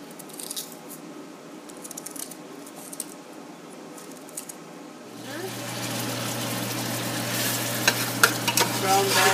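Ginger browns with the other ingredients for a Pakistani chicken pulao. Quiet clinks and stirring give way to a loud, rising sizzle with scraping of a spoon in the pot, close up.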